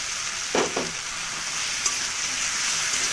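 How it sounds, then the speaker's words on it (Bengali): Potatoes with ground chili and garam masala sizzle in a frying pan for aloo dum, with a broad steady hiss and two quick scraping strokes of the spoon near the start, close and fairly loud. "আলুগুলো দিয়ে খুব ভালো করে নাড়াচাড়া করে নেব।"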